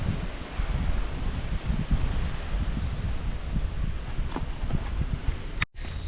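Steady wind gusting across a gravel hiking path on Hilton Head Island, a broad rushing roar buffeting close against the microphone with rustling, cut off sharply near the end.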